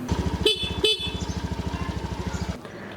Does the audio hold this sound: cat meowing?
no